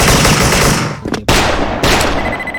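Automatic gunfire in the video game Special Force, loud rapid bursts filling the clip, broken by a short gap and then resuming, close and dominant, with no one talking.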